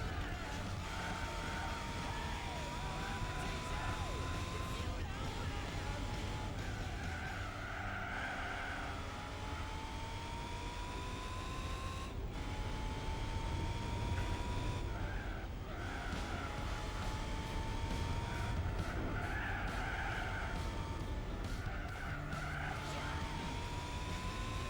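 A Nissan 350Z in Gran Turismo 4 holds a steady, droning engine note for a long stretch, with recurring tire squeals and skids rising over the constant noise.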